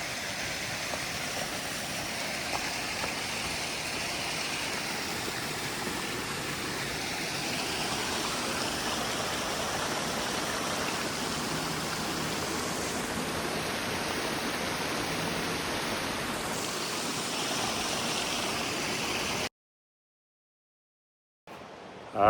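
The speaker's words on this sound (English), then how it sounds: "Sitting here at the Pigeon River under this bridge" The PigeON River rushes under a bridge in the Smoky Mountains, a steady, full broadband roar of flowing water heard close and continuous, with a faint high tone partway through, before the sound cuts to near silence at the end.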